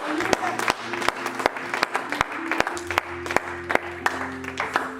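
Church congregation clapping and applauding in praise of the word of God, a dense burst of many hands with sharp individual claps over a sustained organ-like chord, a few brief cheers mixed in.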